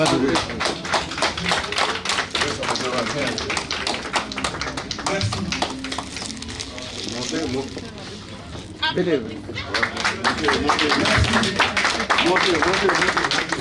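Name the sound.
audience applause at gala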